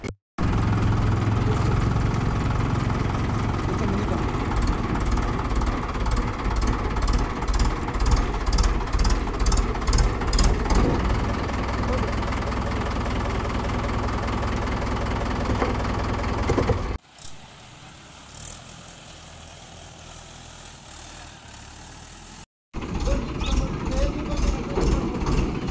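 A tractor collecting garbage in Mudhol, Nirmal district, its engine running steadily and loudly with a rattling, pulsing vibration; the drone cuts out briefly to a quieter background, then resumes.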